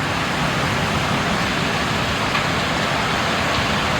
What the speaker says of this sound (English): Look at the speed of the rain though.